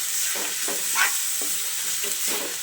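Bottle gourd roasting in ghee for a milk kheer, a steady close sizzle with soft scraping stirs repeating every half second or so, no voices.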